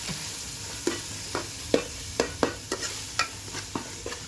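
Onions and tomatoes frying for chicken curry, with a steady sizzle under repeated sharp scrapes and clatters of a spoon stirring the pan, close and without talk.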